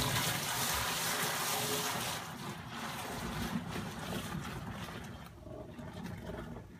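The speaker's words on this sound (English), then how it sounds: "Big 10 gallons that we're tossing down the drain" Ten gallons of a homebrewed beer batch gushing down a drain, a continuous rushing, splashing water noise that eases slightly partway through.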